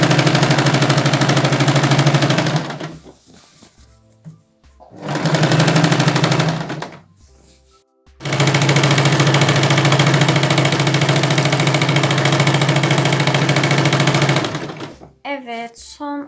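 Sewing machine stitching a baby nest: loud, steady, rapid mechanical whirring in three long runs separated by pauses, with brief clicks and handling noise near the end.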